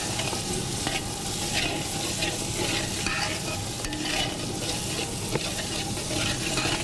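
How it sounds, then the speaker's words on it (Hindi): Meat stir-fried in a pot for daleem, a steady close sizzle with repeated scraping stirs running throughout, no talking. "चलो भाई, मैं अब इसकी थोड़ी भुनाई करूँगी।"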